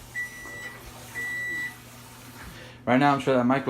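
Three short electronic beeps from a microwave oven sound at a steady interval, each a clear single tone, followed by a person starting to talk nearby.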